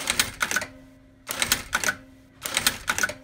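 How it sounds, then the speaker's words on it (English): A CT-8700 industrial sewing machine runs a bar tack in three short rapid bursts, each a fast clattering stitch run separated by pauses, close and loud with a faint motor whine between. "the machine is just gonna stitch that amount of length that you gave it to us"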